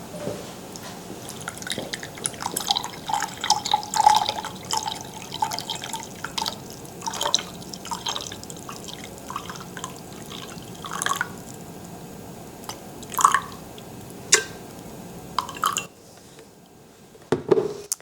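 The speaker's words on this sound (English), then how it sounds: "Now we're gonna pour the hot water, 6 ounces, into the glass." Hot water trickles and drips into a glass, about 6 ounces for an Americano, with scattered small splashes and clinks, close and fairly quiet, no talking.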